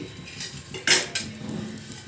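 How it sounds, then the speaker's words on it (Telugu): A single metallic clank of a kadai set down on a gas stove, followed by a lighter knock, close and brief. "గ్యాస్ ఆన్ చేసుకుని ఒక బాండీ పెట్టుకోండి"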